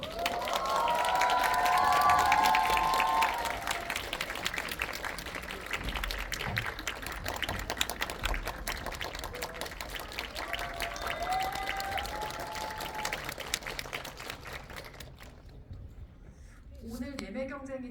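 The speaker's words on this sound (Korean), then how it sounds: "큰 박수로 맞이해 주세요" An audience at a film screening's guest visit event in a cinema gives sustained applause and some cheering to welcome the arriving guests, loud at first and slowly thinning out until it stops near the end.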